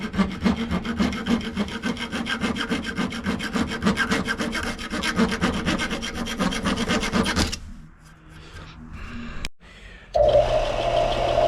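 Rapid, rhythmic rasping strokes of sanding glue off a wooden fillet knife handle, close and steady, then breaking off into quieter handling sounds and a short resumed burst.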